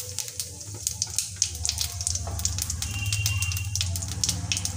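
Whole cumin seeds hit hot oil in a pan where eggs were just fried, giving a soft, close crackling sizzle with scattered pops that swells slightly, with no voices.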